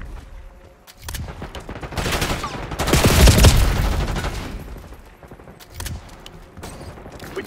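Gunfire in Call of Duty Black Ops 6 multiplayer: bursts of rapid automatic shots swell into a loud, dense volley and then fade, with a few later bursts and some voices.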